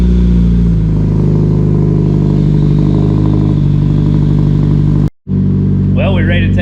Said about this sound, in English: fire it up and let it start warming up